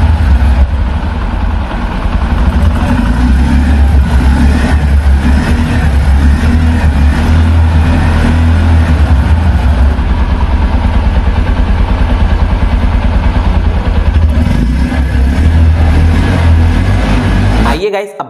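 A 100cc Hero commuter motorcycle engine idles with its exhaust running, a steady low, even putter that holds for about eighteen seconds and then cuts off at the end.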